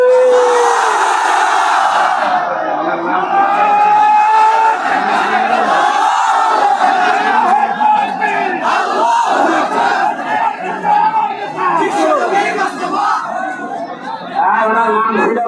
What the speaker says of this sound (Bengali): আপনারা দেন তো লিল্লাহে তাকবীর।